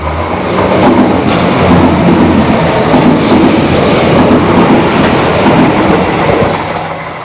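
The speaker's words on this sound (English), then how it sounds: "think I hear the old train coming there now." A train rumbles past close by, loud and sustained, with rhythmic clacking of wheels over rails and some high metallic screeching.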